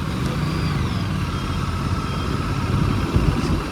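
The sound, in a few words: Aprilia RS 457 motorcycle engine riding in fifth gear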